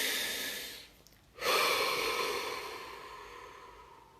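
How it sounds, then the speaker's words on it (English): A single deep breath: a slow, airy inhale followed by a long, fading exhale, close and soft in a quiet room with no talk. "Deep breath."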